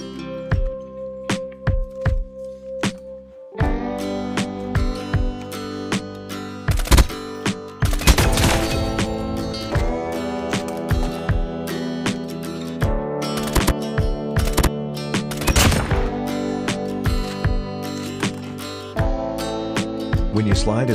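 Customised M13 or Type 25 assault rifle firing in Call of Duty Mobile, with short sharp bursts and a rapid volley of loud, closely spaced shots that sound near and punchy against the game's background ambience, with no talking.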